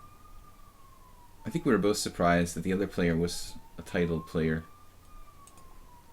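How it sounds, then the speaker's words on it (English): An ambulance siren passes outside, a faint, steady wail rising and falling in the background while someone talks indoors over it. "Another ambulance."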